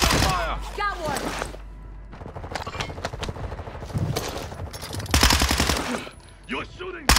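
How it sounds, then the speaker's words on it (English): Rapid bursts of game gunfire from a Call of Duty: Modern Warfare quads match on Ashika Island, crackling through the whole stretch with several sharp louder volleys, while players talk over it. "You're shooting."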